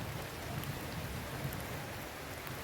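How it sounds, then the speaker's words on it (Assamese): Rain falls steadily outside a temple during the month of Shravan, a dense, even hiss of drops with faint low rumbles underneath, continuous throughout. "বৰষুণ পৰি আছে যদিও ভাল লাগিছে।"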